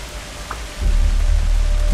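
Rain falls in the video game Kena: Bridge of Spirits as a dense, steady hiss that swells into a louder, fuller downpour with low rumble after the first moment, and no one speaks.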